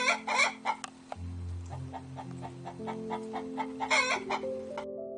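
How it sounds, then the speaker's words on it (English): A hen clucks with a rooster nearby, short repeated clucks and calls in an irregular rhythm over a steady low background hum, fairly close and moderately loud. "The rooster watched the hen cluck."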